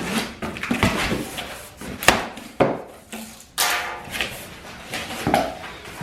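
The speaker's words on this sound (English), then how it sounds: "first open up your box" A cardboard box holding a PrimeWeld Cut 60 plasma cutter is opened up close, with a run of rustling, scraping and sharp thumps and taps of handled packaging.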